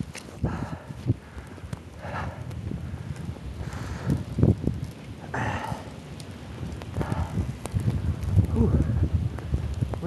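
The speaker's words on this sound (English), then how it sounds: "Wind blowing up here." Wind gusting during a snowstorm, buffeting the microphone in uneven rumbling bursts, close and fairly loud, with scattered soft thuds and brief voices underneath.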